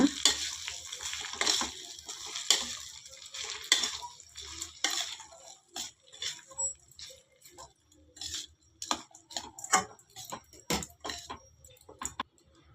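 Spoon stirring and scraping through hotel-style lemon rice with lemon juice and coriander leaves, a close series of irregular clicks and scrapes, no talking.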